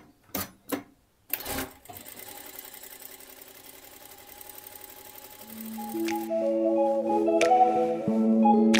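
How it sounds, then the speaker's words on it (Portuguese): A domestic sewing machine runs steadily, stitching two parallel gathering seams along the edge of a fabric ruffle for a peplum blouse, with a few sharp clicks at the start before a continuous mechanical whir that grows slightly louder. "E aí eu vou passar 2 costuras paralelas aqui na outra extremidade do meu babado, que é para fazer o franzido."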